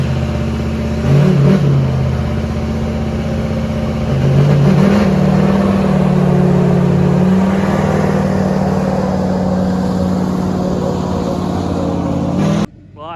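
A Duramax pickup truck in four-wheel drive strains against a skid steer in a tug of war, its diesel engine droning loud and steady with rising revs and surges throughout, cutting off abruptly near the end.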